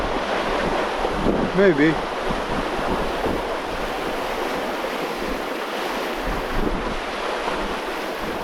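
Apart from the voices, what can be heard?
ocean waves breaking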